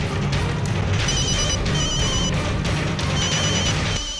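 A telephone rings in repeated bursts of a bright electronic trill, heard through a loud, dense background of music and drama-scene noise.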